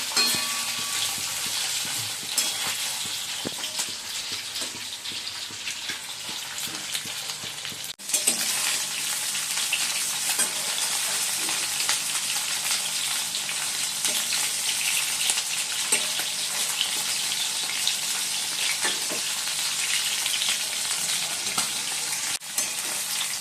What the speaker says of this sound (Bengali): চিকেনগুলো ভেজে নিচ্ছি, হয়ে গেছে ভাজা